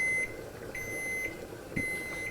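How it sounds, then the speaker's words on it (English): An oven beeps three times at a steady, evenly spaced interval to signal it has preheated, high and clear over a quiet room hum. "That beeping is the oven saying, she ready, she ready."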